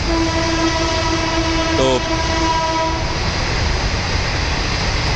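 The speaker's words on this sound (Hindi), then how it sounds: "मेरे पीछे एक ये देखो ट्रेन आ रही है" A train passing close to a railway station in a quiet area, with a loud continuous rumble and a long two-tone horn blast early on, and a brief word of speech.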